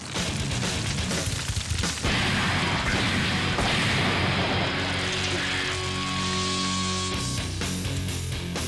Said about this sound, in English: explosions rock the night